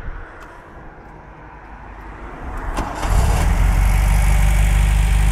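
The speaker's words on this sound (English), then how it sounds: "Sounds nice and quiet for an MGB." An MGB engine turns over and catches from cold, then settles into a loud, steady, low idle on choke, close and continuous with no talking.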